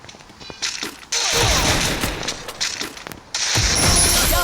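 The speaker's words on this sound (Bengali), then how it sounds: "আমি স্নাইপার দিয়ে একজনকে মেরে ফেলেছি।" Gunfire from a sniper rifle in a ranked online shooter game rings out as loud, sharp blasts with crackling echoes in a busy in-game soundscape, a couple of bursts separated by short quieter gaps.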